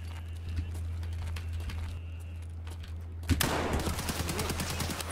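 Shotgun blasts in the video game Escape From Tarkov ring out as sharp, loud reports over a steady low hum, with a burst of dense noise near the end.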